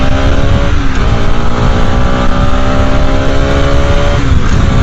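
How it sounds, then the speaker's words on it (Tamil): A Bajaj Pulsar RS 200 motorcycle engine roars loudly at high speed, a sustained harmonic drone with slight pitch swells that could come from gear changes, heavy wind rush and no voices. "கியர் ஷிஃப்டிங் வந்து ரொம்பவே சூப்பராக இருக்குது. வண்டி அப்படியே உரும்புது"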